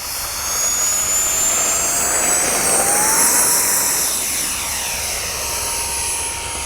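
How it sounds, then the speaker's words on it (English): An AeroScout electric ducted-fan RC jet plane takes off into the wind with a loud, steady high-pitched whine and airy rush, its tone rising and shifting slightly as it passes near and climbs. "here we go, taking off into the wind right now"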